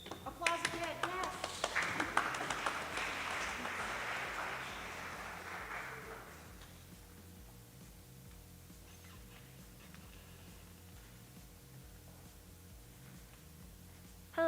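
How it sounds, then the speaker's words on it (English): An audience claps at senior capstone presentations, a dense burst of applause for about six seconds that fades into a quiet room hum. "Applause again, yes."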